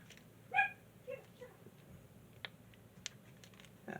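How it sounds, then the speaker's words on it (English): Small dogs barking in the distance, a single sharp yip followed by a few faint, scattered whimpers and yaps over quiet room noise. "I gotta love them little dogs."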